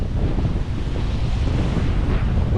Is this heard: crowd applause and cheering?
no